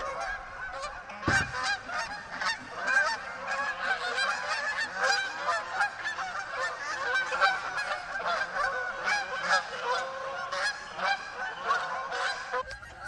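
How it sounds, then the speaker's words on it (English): A flock of geese honking continuously and busily overhead, many overlapping calls at fairly close range with no talking. "The geese flying overhead were strafing me."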